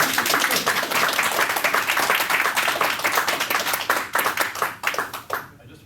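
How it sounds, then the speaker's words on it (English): A small group claps their hands in a quick, uneven patter of sharp, close slaps that lasts several seconds before thinning out and stopping, with some talking mixed in. "We're supposed to clap."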